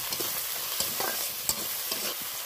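Continuous crackling sizzle of food frying in a pan with salt and turmeric, with a few sharper pops and light stirring taps, close and fairly loud, no voices.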